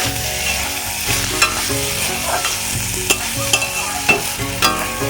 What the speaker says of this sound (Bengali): এর মধ্যে আমি কয়েকটা কাঁচা লঙ্কা চেরা দিয়ে দিচ্ছি